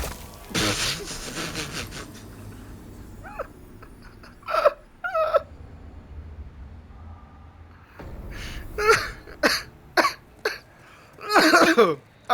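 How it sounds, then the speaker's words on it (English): A person coughs repeatedly while playing Demon's Souls, with a harsh cough early on, then scattered throat-clearing and a cluster of loud coughing bursts near the end, over quiet game sound. "I'm sorry about the coughing."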